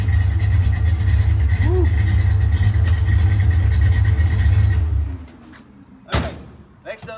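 Foxbody Mustang V8 with a camshaft upgrade, Flowmaster exhaust and X pipe idling and revving loudly with a deep low rumble up close, then cutting off, followed by a door slam; a voice briefly whoops.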